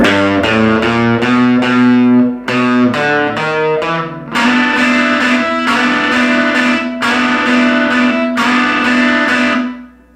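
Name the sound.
electric guitar strummed triplets sliding up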